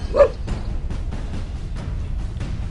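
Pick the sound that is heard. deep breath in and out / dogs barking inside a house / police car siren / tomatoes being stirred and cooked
dogs barking inside a house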